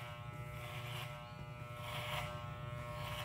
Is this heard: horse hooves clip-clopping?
no